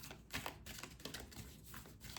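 A deck of tarot cards is shuffled in quick, papery riffles and flutters, soft and close, repeating in uneven bursts with no talking.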